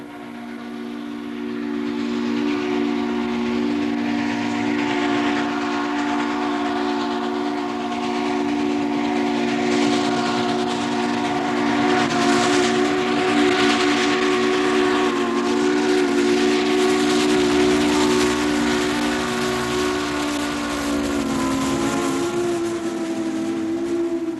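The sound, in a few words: steam train whistle and engine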